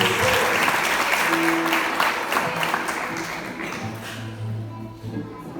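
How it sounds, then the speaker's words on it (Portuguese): A church congregation at a family worship service claps loudly in a dense, sustained round that gradually thins and fades, with a few faint tonal notes underneath near the end. "aplauda o Senhor mais uma vez"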